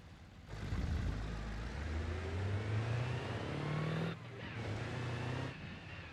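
A truck engine in the BeamNG driving game hums and revs steadily, with pitch rising and falling through gear changes and one short dip in the middle, close and continuous, with no voices.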